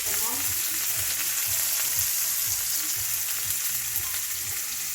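Vegetables seasoned with salt, pepper and garlic powder fry in a pan, giving a steady, dense sizzle that continues without a break, close and fairly loud with no talking.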